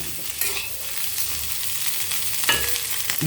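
Potatoes and garlic fry in oil in a small kadai, a steady close sizzle with stirring scrapes and a few louder clinks of the spoon against the pan.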